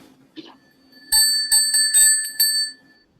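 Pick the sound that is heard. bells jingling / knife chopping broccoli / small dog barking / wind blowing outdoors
bells jingling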